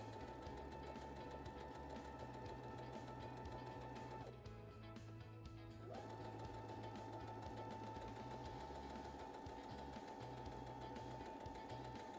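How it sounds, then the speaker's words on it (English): A sewing machine stitches across the bottom edge of two fabric pieces with a steady, close, mechanical whirr. It pauses briefly in the middle, then runs again at an even pace. "grab the bottom edge of the two pieces and sew across that"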